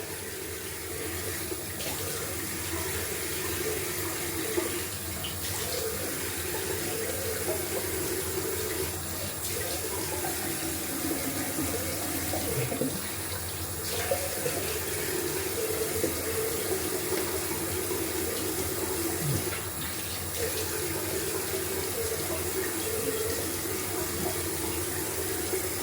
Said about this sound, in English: Gonna rinse it with cold water, and this will really feel cold now.